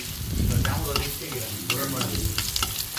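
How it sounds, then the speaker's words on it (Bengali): Chopped onion and garlic sizzle and crackle in hot oil for a dal tempering, the frying hiss steady and close with a few stirring scrapes throughout. "এখন বাগার দিব পেঁয়াজ আর রসুন কেটে নিয়েছি"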